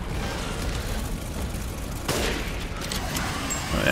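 Rifle gunfire in the Resident Evil Village video game, a steady burst of sharp shots and booms through the whole stretch, fairly quiet overall with a stronger blast near the midpoint.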